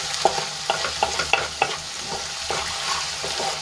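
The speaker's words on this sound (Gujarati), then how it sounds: "મિક્સ કરીને આપણે એને અડધી મિનિટ માટે સાંતળી લઈશું" Ginger, garlic and chilli sautéing in a hot oil tempering, a close continuous sizzle with a run of sharp spatula clicks and scrapes against the pan, then softer stirring.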